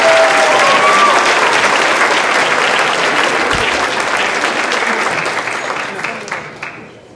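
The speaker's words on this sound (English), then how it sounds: "Can we get another round of applause for the students?" An audience at the 2023 Hazel Park Promise Zone banquet gives loud, dense applause for students. The clapping holds steady, then thins and fades out toward the end.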